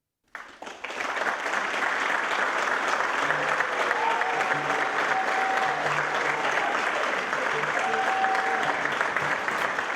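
Sustained applause from a large audience at a summit, dense and steady for the whole stretch with cheering and a few whistles on top.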